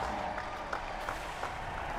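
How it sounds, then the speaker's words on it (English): A crowd claps and roars steadily after a political speech, a dense continuous wash of applause and cheering with no clear breaks. "crowd is roaring."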